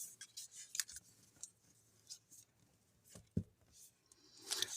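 Scissors trimming a small piece of scrapbooking paper for a Christmas craft; a few faint, close snips and rustles of paper in a quiet room, with no speech.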